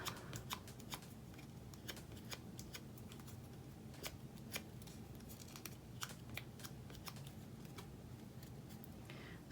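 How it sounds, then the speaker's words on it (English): Soft, steady scraping and light tapping from a bone folder working paper edges for a paper flower craft, faint and close with a quiet background hum throughout. "Now what I'm going to do is take my bone folder and soften those edges,"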